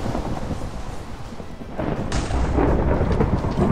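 Thunder from a Minecraft survival world rumbles low and steady, then swells louder partway through, heard alone without talk.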